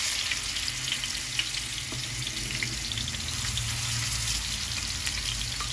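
Rohu fish fries in hot oil with a constant, close hiss and crackle, a dense sizzle holding steady throughout without any voices.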